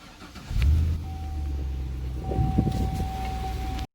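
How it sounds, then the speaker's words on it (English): A 400-horsepower Cadillac CTS-V engine cranks and catches, then settles into a steady, throaty idle with a slight rev midway, close by and fairly loud. "let's just give it a quick start up."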